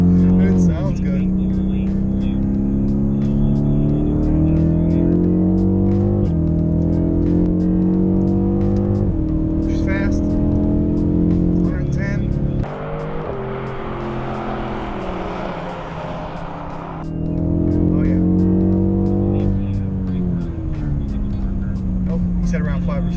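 BMW M850i xDrive engine revving hard and accelerating through gears on a race track straightaway, a loud sustained roar that drops briefly to a whooshing rush before climbing again.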